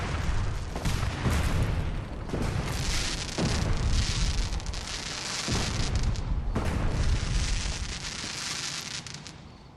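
Fireworks-style explosions in the video game Fallout 4 boom repeatedly, a series of loud, rumbling blasts spaced a second or two apart over a continuous roar.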